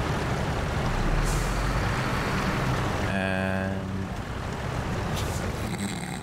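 A truck engine in the video game SnowRunner, pushing slowly through deep water in low gear with the differential locked, as a steady rumble and wash of water; a hissing air-brake burst cuts in midway.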